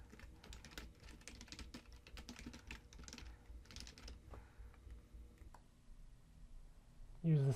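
Quick bursts of keystrokes on a computer keyboard as a report name is entered, soft close clicking in clusters that thin out toward the end, ending with a brief louder thump.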